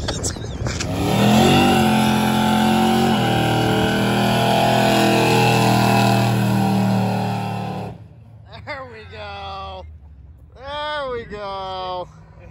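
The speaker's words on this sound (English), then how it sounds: "And that's how Chris, you do a burnout" Car doing a burnout at a track event, engine roaring loud and steady for several seconds with tire noise, then cutting off abruptly as people talk.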